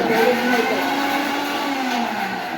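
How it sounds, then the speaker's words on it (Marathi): A mixer grinder whirs steadily as it grinds chopped onion in a home kitchen. The motor hums loud and close throughout with a slightly wavering pitch. "आता तू पण मिक्सर मध्ये दळून घेते"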